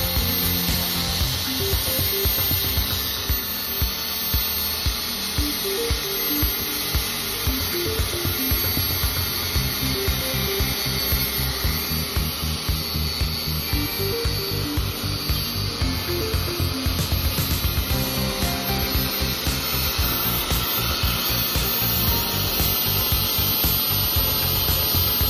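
An Arbortech mini grinder grinds away an epoxy inlay in wood, producing a continuous loud abrasive whine and rasping scrape with faint rhythmic fluctuations throughout.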